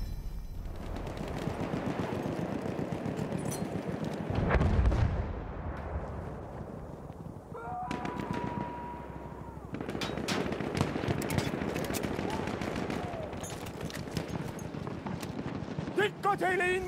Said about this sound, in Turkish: Dikkat eyleyin makinalı tüfek.